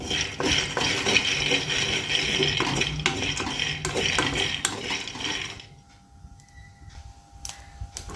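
Peanuts roasting in a pan for a bitter gourd masala curry, with steady scraping and clinking of a utensil against the metal pan that stops about two-thirds of the way through, leaving a quieter background.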